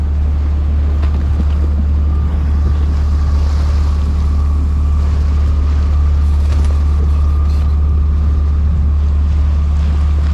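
Loud, steady low drone of a sailboat's engine while motor sailing in barely any wind off Mexico, with wind and water noise washing over it throughout.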